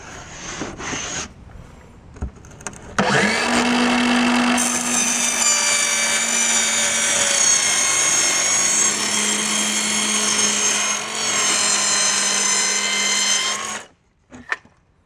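A power saw rips through Wedi shower board in a straight cut along a rip fence for a walk-in shower build, a loud, steady whining drone of about ten seconds with rising pitch and a brief dip before it winds down.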